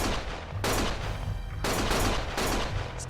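Gunfire in Lost Judgment rattles in loud, sustained bursts, with two dense volleys separated by short pauses and no voices over them.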